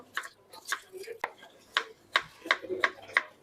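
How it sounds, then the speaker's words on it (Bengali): Knife chopping an apple into small pieces on a board, a run of sharp, fairly regular close cuts repeating roughly every third of a second, with light scraping between strikes. "এই যে আমরা আপেলটা কুচি কুচি করি এখন"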